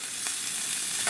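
Food browning in a hot pan gives a steady, close hiss of sizzling for a brief moment, with no voices.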